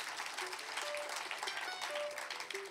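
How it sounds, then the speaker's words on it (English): A crowd at the Joe Val Bluegrass Festival claps for the sound crew, a steady bright wash of hands across the whole stretch, moderately distant, with faint stray tones but no talk. "How about a nice round of applause for the sound personnel?"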